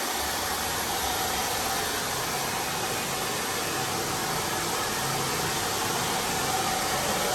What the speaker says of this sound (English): That's the belt connecting the motor to the actual pump right there.